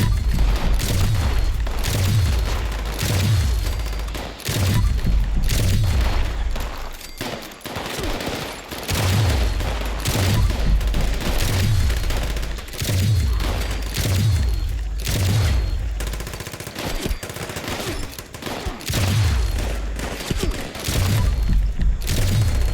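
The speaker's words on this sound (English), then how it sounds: "Have forward observer use recon scope for Defiance artillery strike at Victoria." Artillery strike explosions in Fallout 76, a heavy barrage of booms and rapid gunfire-like bursts landing in a steady, repeating rhythm of deep thumps, loud and continuous throughout.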